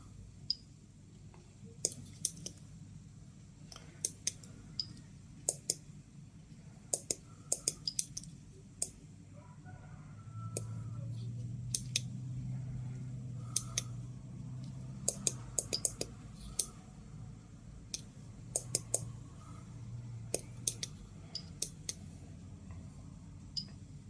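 Sharp irregular clicks from an SBM-20 Geiger counter detecting gamma rays crackle in quick succession over a low background hum, bunching into faster bursts at times.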